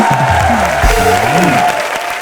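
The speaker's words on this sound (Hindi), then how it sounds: "जोरदार तालियां।" Applause from a live comedy show's studio audience, steady and loud throughout, with music or a voice faintly layered in the middle.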